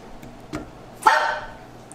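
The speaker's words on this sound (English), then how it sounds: "No barking." A dog gives a single sharp bark nearby after a faint click or two, otherwise quiet.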